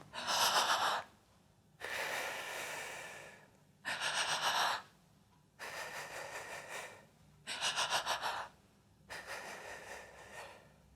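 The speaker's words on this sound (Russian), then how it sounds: "Прерывистое дыхание, как будто вы заплакали" A person demonstrates interrupted, sobbing-like breathing as a diaphragm exercise: six short bursts of gasping, jerky inhalations and exhalations, close and moderately loud, separated by near-silent pauses, no talk.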